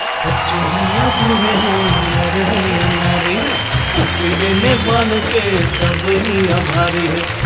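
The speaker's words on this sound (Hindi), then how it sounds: "हम जोरदार तालियां बजाएंगे डॉक्टर सुरेंद्र दुबे के लिए" Loud crowd applause and cheering fill a Hindi kavi sammelan poetry stage show honoring a poet, continuous and dense, with a voice speaking over it through a sound system.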